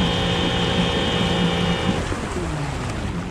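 A homemade electric boat motor with a jamming gearbox whines with a steady high tone over water and wind, then abruptly cuts out about two seconds in, leaving only the washing outdoor noise.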